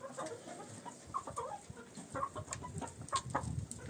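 Hens cluck and murmur in a chicken coop, with a steady stream of close and overlapping clucks, soft squawks and scratching noises that carry on throughout, with no voices.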